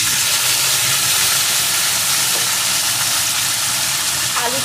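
Potato pieces frying in hot oil with whole spices for a Bengali muri ghonto made with Gobindobhog rice, giving a steady, close, even hiss and sizzle that continues without a break.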